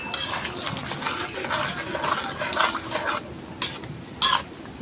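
Jackfruit, cashew and poppy seed curry with a spoonful of sugar stirred in a pan: close, irregular spoon scrapes and clinks against metal over a low cooking hiss, with no one speaking.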